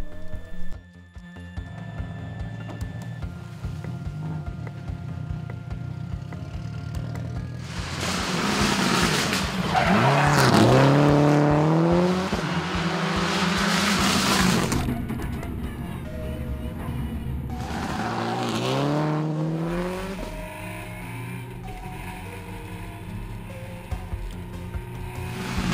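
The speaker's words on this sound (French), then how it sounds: "la base d'essai pour les premiers tours de roue de la Subaru R4, une route fermée juste à côté de Varèse" A Subaru R4 rally car drives hard on a closed test road near Varese. Its engine note rises and falls loudly and continuously, with squealing and skidding tires through corners and brief lulls between bursts of acceleration.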